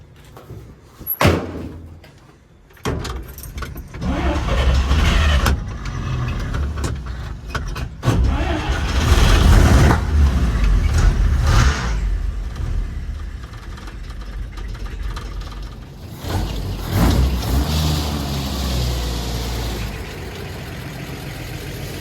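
A 1950 Chevrolet car runs with a steady engine rumble, a door slams shut near the start, and the engine keeps droning as the car pulls away and drives off, loud and close throughout.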